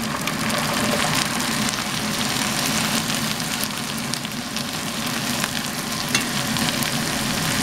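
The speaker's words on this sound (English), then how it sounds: "And then you just want to brown it for about 5 minutes or so." Rabbit meat browning in a pan, a loud, steady frying sizzle with a crackling hiss that runs without a break the whole time, close up and alone with no voices.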